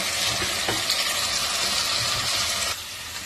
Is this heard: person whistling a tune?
no